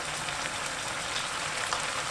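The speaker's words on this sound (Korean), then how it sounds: "소스를 붓고 중불로 켜주세요." Pork belly bean sprout rolls cooking in sauce in a pan over medium heat, giving a steady, close sizzling and bubbling hiss that continues evenly throughout.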